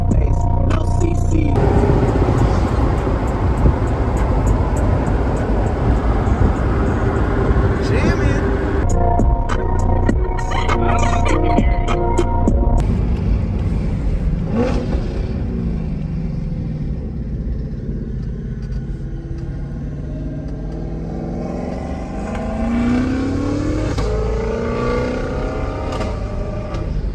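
A cammed twin-turbo Ford GT500 revs hard at high RPM on a Florida street, a loud, sustained engine roar with sharp pulls and dips that lasts throughout, with brief voices mixed in.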